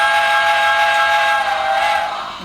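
Model train locomotive sounding a long whistle under JMRI control, one sustained steam-style tone held loud and steady for the whole clip, fading slightly at the end.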